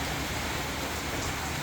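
Steady early-morning rain shower in Ponce, Puerto Rico, a continuous even hiss of falling drops with no breaks, moderately loud and close, with no talking.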